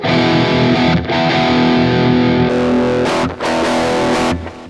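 A distorted electric guitar through a Lekato Cube Baby amp modeling pedal with reverb off plays sustained chords with a harsh, dry, boxy tone, loud and continuous with a couple of brief breaks.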